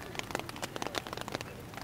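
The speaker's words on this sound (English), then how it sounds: "It's raining outside the tent." Steady patter of rain striking a tent nearby, irregular drops tapping continuously with no voices.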